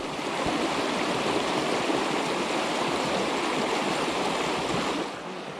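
Braided channels of glacial meltwater from the Bow Glacier rush across gravel flats, giving a steady, dense, close roar of running water that holds constant for several seconds before easing slightly at the end.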